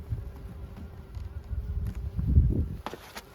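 Faint, close insect buzzing of honeybees at a beehive, rising and falling as bees hover nearby, with soft rustling and a brief louder burst near the end.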